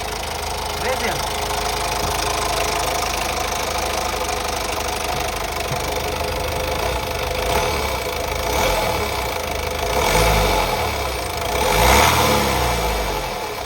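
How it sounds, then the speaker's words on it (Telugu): A 2014 Honda City SV with a 1.5-litre i-DTEC diesel engine, parked at a car showroom lot, runs at a steady idle with an even diesel clatter. Voices talk over the engine. "one point five litre diesel engine ఐబీటెక్ engine sir ఒకసారి ఆన్ చేయండి సార్"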